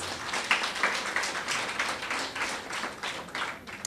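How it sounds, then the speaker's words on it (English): An audience at a primary school awards ceremony claps for several seconds, a moderately close patter of many hands with uneven individual claps standing out. "Give them a big round of applause."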